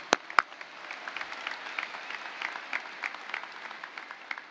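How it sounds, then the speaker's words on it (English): Graduation audience applauding speakers at a high school ceremony, a steady wash of many hands clapping from a crowd, with a few sharper close claps at the start, moderately loud and continuous throughout. "Let's give them a huge round of applause."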